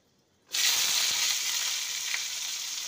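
Bitter gourd slices hit hot mustard oil already tempered with panch phoron, bursting after a brief silence into a loud, close sizzle that settles into a steady hiss with no talking.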